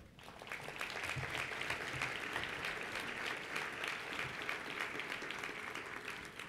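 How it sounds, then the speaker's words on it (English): An audience at a community awards event breaks into steady, sustained applause, with dense clapping that stays fairly even throughout. "they deserve a round of applause"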